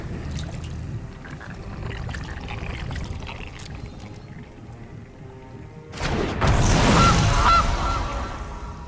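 Goose honking sound effect in a digital card game match, a loud burst of squawking and rushing noise partway through, following quieter background sounds.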